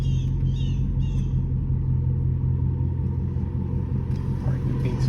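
A widebody Dodge Charger Scat Pack rumbles steadily while driving, its deep, continuous low engine drone heard close from inside the cabin with no break.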